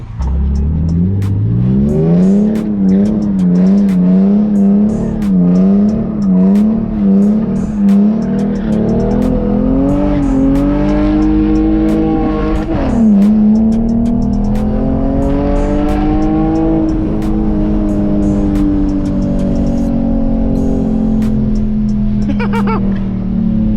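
A car with a welded differential revs hard while its tires squeal and slide, the engine pitch rising and falling in rapid waves before climbing into a long, loud, sustained rev, very close.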